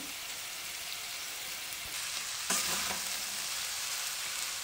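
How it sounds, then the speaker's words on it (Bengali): Cooked rice is mixed into a frying prawn mixture in a pan, a dense continuous sizzle like steady rain that swells louder midway as the rice goes in, close and unbroken with no speech. "এবার আমি এখানে রাইসটা মিশিয়ে দেব।"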